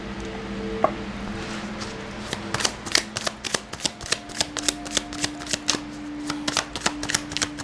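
A deck of chakra cards is shuffled by hand, close up: a rapid run of crisp riffling slaps and snaps after a few quiet handling sounds, with a faint background tone, no talking.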